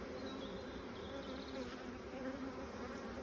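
Honey bees from a cedar hive buzz in a dense, continuous drone during an inspection of agitated colonies, faint overall but steady throughout, with no voices.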